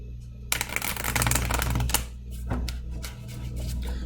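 Tarot cards shuffled by hand in a rapid riffling flutter, close and crisp, with a few sharper taps as the deck settles.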